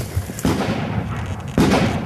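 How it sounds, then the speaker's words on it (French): Two sharp gunshots crack out about a second apart during a Taliban ambush in Afghanistan, each followed by a short rumbling echo over steady background noise. "Des coups de feu."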